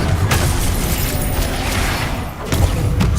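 A Hogwarts Legacy Expelliarmus disarming spell cast in combat, a dense rumbling whoosh of magic with sharp bursts near the start and again toward the end, loud and continuous with no talk over it.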